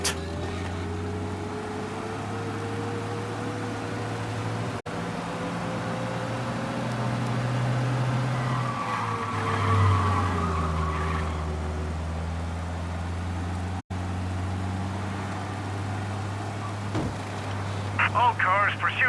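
Car engines rumble and whine through a Mafia video game pursuit, a steady revving drone with shifting pitch as the chase drives fast, with speech heard over the game audio.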